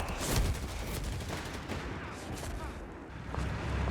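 Artillery fire in the real-time strategy game Company of Heroes 3 rumbles as a steady, dense wash of distant booms and battlefield noise for several seconds, with no clear individual shots.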